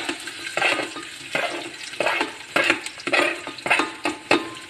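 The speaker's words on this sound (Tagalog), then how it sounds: "Ilagay ko na rin to ang sibuyas." Onions go into a pot of pork pochero, followed by a string of bright, scraping stirs and sizzling bursts at a steady, rhythmic pace, close and clear with no talk.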